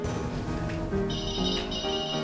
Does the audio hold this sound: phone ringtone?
yes